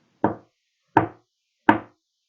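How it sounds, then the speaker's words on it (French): Three sharp knocks on a wooden door, evenly spaced about three quarters of a second apart, moderately loud and alone. "Il se dépêche de frapper à la porte."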